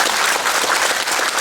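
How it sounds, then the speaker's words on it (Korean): Audience applause at a Buddhist eye-opening consecration ceremony for a Buddha statue, a steady, dense clapping from a large crowd lasting throughout without a break. "함께 한번 박수로 크게 감사의 뜻을 좀 소개를 해드리겠습니다"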